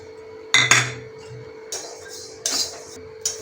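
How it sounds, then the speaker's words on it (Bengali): Cumin seeds dry-roasting in a pan: a handful of separate metallic clinks and scrapes from a utensil on the pan, spaced irregularly with quiet gaps, close and without talk. "এবার ভেজে নিচ্ছি জিরে"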